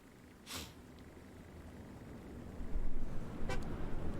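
A vehicle horn honks in the WWII shooter Hell Let Loose, two short toots about three seconds apart over a rising rumble of battlefield noise.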